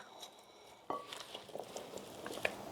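Sliced peaches and a pint of blueberries are tossed together in a large bowl, with faint, close clinks and soft stirring rustles that are quiet and intermittent.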